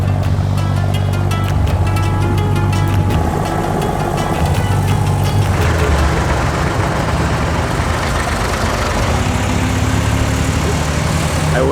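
A loud, steady engine drone with deep low rumble runs throughout, shifting character partway through, like a boat motor churning along on water, in Old Dubai.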